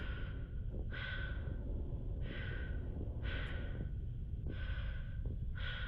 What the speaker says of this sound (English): All you can hear is the breathing and me freaking out.